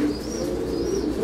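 Pigeons coo softly inside a pigeon loft, with low rolling calls over a steady background murmur and a faint high whistle passing through.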